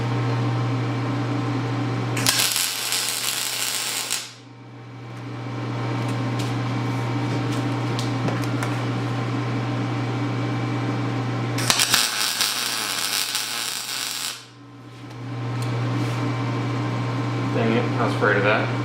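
Welding bursts fix the seat of a Mini Stunter 125 build in place: two long, loud crackling bursts of several seconds each, separated by a pause, over a steady low electrical hum.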